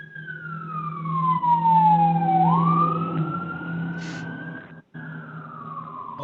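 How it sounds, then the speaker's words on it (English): An ambulance siren passing by, a loud wailing tone that sweeps downward then rises again as it moves past, fading slightly near the end, heard alone over low traffic rumble. "I muted you for a sec with the ambulance going by"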